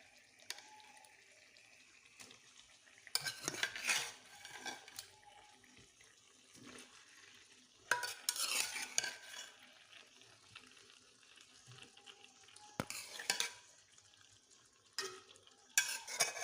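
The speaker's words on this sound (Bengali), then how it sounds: "মাছগুলো আলুর সঙ্গে জলের সঙ্গে মিশিয়ে নেব।" River fish being stirred into a pan of fried potatoes with water, producing intermittent scraping and stirring bursts with a light sizzle and watery slosh between quieter pauses.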